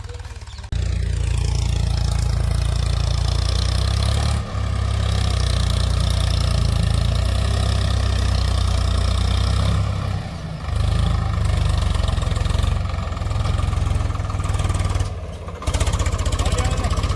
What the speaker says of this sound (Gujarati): ટ્રેક્ટર આવ્યું છે શેડવા માટે